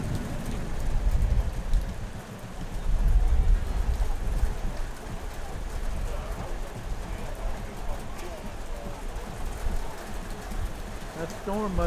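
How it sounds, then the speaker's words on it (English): Heavy rain pouring onto an outdoor football pitch during a WPSL women's match, a dense steady hiss with heavier low drumming early on, continuing without break across the stretch. "this is the type of the rain that you just get soaked and you can't recover from in terms of being dry."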